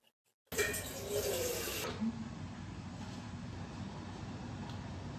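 Water from a kitchen tap gushes suddenly into a vessel for tea, loud and close at first, then settles into a steadier running stream that continues to the end.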